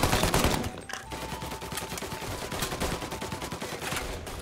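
Automatic rifle fire in Mafia: Definitive Edition, a fast rattling stream of close shots after a brief louder opening, continuing steadily to the end.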